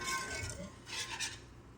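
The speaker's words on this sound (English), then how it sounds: "you don't have to keep stirring, but I will" Gravy for country fried steak being stirred in a pan, a short run of soft scraping and swishing strokes close by, quiet, with no voices.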